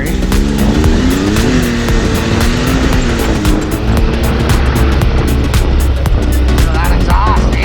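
Can-Am Maverick X3 Turbo XMR side-by-side driving, its loud engine and exhaust droning steadily up close with rising and falling pitch, while people talk over the noise.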